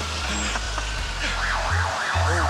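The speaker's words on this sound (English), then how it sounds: "Did you hear a siren?" A wailing emergency siren rises and falls in repeated sweeps over steady traffic and engine rumble, moderately distant and with no talking.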